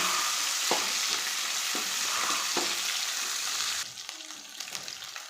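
Chopped onion and three small tomatoes sizzle steadily in a pan for chutney, with several scraping stirs of a spoon, and the frying hiss drops noticeably partway through.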